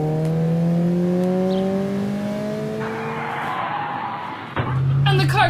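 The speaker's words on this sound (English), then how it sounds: "They all scramble in the car and Cucumber speeds off." A car engine revs and rises in pitch in a radio drama effect, then tires skid and squeal loudly as it speeds off, followed by a sharp burst of screeching near the end.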